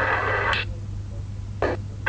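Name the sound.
marble move sound in the iPad game Stone Solitaire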